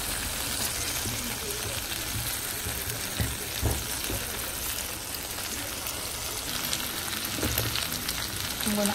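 Bangamary fish curry fries in oil in a pot, a steady close sizzle throughout with occasional scraping knocks from stirring, and no talking over it.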